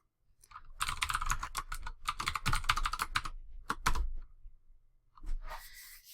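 Someone types on a computer keyboard in quick bursts of close, crisp key clicks with short pauses, ending in a final flurry of taps.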